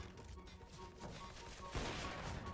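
Gunfire in the shooter game CS:GO: a quiet, muffled burst of shots mixed into low in-game rumble, with a sharper crack and louder spray of rounds near the end.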